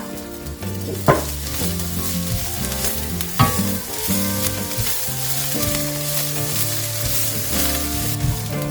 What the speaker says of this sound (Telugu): ఈ సోయగూరని ఎక్కువసేపు వేపకూడదు, దాంట్లో ఉన్న ఫ్లేవర్ పోతుంది.